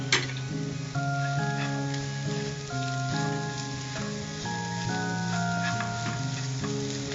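Beans sauté in a pan with a steady, moderate sizzle and light stirring taps, heard beneath prominent background music.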